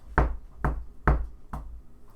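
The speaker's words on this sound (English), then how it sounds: "I'm going to go knock on the wall." Four firm knocks on a wall, evenly spaced about half a second apart, close and loud with no talking.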